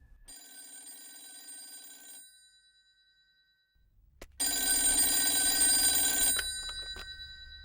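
An old-style telephone bell rings in two bursts separated by a pause, the second louder and closer, with no one talking over it.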